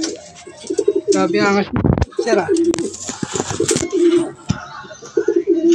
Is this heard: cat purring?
no